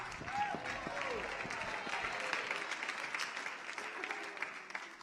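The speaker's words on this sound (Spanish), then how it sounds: "Alguien le da un aplauso al Verbo que ha estado siempre con Dios." A church congregation claps for Jesus in a sustained burst of dense applause that fills the room, with a voice and some whoops rising within it before the clapping thins slightly toward the end.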